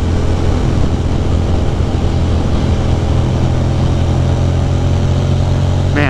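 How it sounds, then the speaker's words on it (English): A Ducati motorcycle engine droning steadily while riding along a road around a reservoir, loud and continuous with wind roar throughout. "Ryan, I can hear your bike in my fucking headset like so loud"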